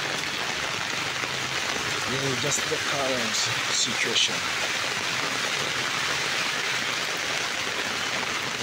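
Heavy rain falls steadily during flooding in Nairobi, a dense continuous wash of water noise that runs the whole way through, with someone speaking briefly over it near the start.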